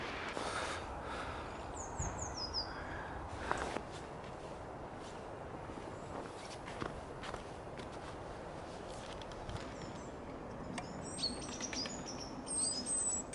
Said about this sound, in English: the birds are incredibly tame, and they're already coming into the branches in the trees around me